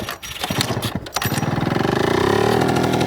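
A Yamaha Jog scooter engine idles steadily after starting, a close, even putter with a fast regular pulse that holds constant without revving up, following a few brief clunks at the start.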